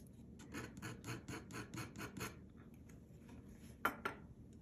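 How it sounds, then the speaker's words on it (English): Palette knife scraping ultramarine blue oil paint off a palette during color mixing, a run of rhythmic rasping strokes, close and fairly quiet, ending with a couple of sharper scrapes. "Try to scrape some of that off."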